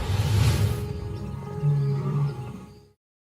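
African lions roar in the wild, deep rumbling calls rising and falling in loud, close, overlapping bursts with no talk over them.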